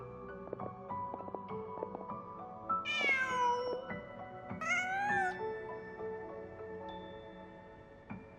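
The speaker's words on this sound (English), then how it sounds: "Just a cat." A cat in the video game Genshin Impact gives two distinct meows, a few seconds apart, over soft game music and ambient tones.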